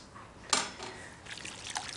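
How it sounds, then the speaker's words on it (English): Fruit juice poured into a jelly, a brief quiet trickle and splash with a soft liquid patter afterward, no talk. "I'm going to pour the rest now"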